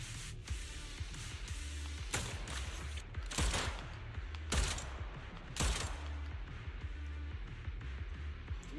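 Sniper gunfire in Zenless Zone Zero: several sharp, spaced shots crack out about a second apart over a faint, steady background of game noise.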